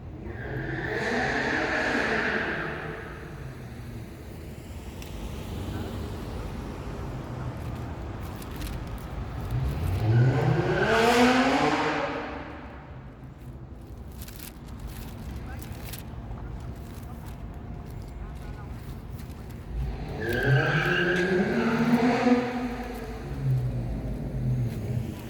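A new car revving hard and skidding, three rising engine surges with tire noise spaced about ten seconds apart, heard at middle distance over steady background hiss.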